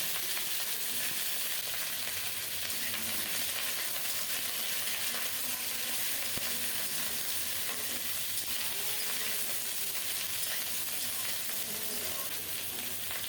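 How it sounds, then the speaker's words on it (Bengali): Cauliflower pieces, soaked in salt water and rinsed, fry in hot oil over tempering spices, giving a steady, dense sizzle with occasional stirring scrapes throughout, close and continuous with no talk. "ফোড়নটা রেডি হলে ফুলকপি দিয়ে দিলাম"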